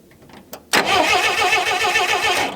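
Engine of an old 300,000-mile farm truck cranks briefly, then catches and roars into a loud, rough idle, close by with a steady rumbling throb.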